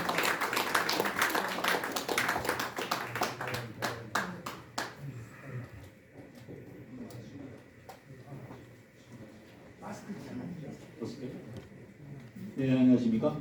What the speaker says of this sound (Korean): 여러분 박수로 환영해 주시면 고맙겠습니다